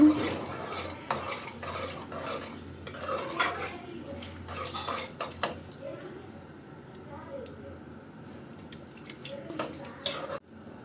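A spoon stirs mushroom pulao mixture in a pot, with repeated scraping and clinking against the metal and soft sloshing, under intermittent talk.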